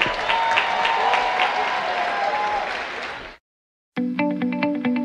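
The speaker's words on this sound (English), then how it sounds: "Come on, I need more round of applause for that." A dense crowd at a Howard University Bison athletics event applauds steadily for about three seconds, then a brief silence before music with a plucked, rhythmic pattern starts.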